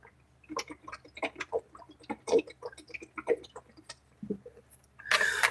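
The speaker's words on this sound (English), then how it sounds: "I needed a quick swig" A person taking swigs of well water, a series of close wet gulps, swallows and small mouth clicks in a quiet room, ending in a loud burst of noise.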